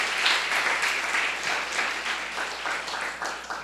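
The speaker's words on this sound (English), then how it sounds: "let's give them a round of applause for making the effort for coming out as well" An audience at a young adults' festival day gives visiting young adults a round of applause, with steady clapping from a crowd throughout, moderately loud and evenly sustained.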